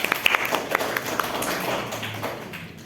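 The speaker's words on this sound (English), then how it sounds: "Okay, give applause to Hafa." Scattered handclaps from a classroom of students, a quick patter of irregular claps at moderate distance that thins out over a few seconds with faint murmuring beneath.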